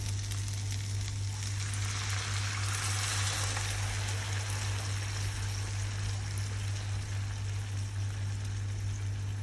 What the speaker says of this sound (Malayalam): മോര് റെഡിയാണ് മോര് ഒഴിച്ചു കൊടുക്കാം